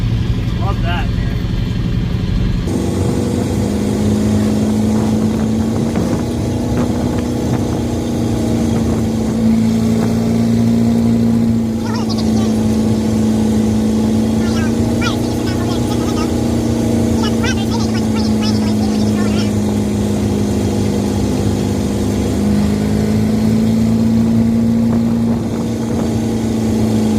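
A Ford F8000 truck with a Caterpillar 3208T 10.4-litre V8 turbo diesel and AFRC delete pulls under load, its loud, steady drone rising and falling slightly for nearly half a minute.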